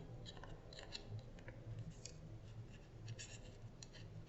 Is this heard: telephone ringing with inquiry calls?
no